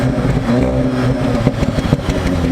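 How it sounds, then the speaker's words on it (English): A stock-exhaust Audi S3 engine revs steadily with a droning, vacuum-like hum and a few small surges in pitch, close and loud throughout with no talking. "The best way I can explain the sound of an Audi S3 standard is, well, it kind of sounds like a Hoover"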